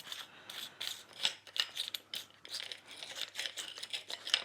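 Rubbing, ratcheting mechanical clicks and scrapes from a threaded fitting being unscrewed on an RV holding tank, close and moderately quiet, in irregular bursts with no voices.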